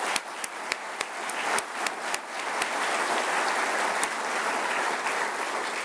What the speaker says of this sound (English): let's give the family members a round of applause as well.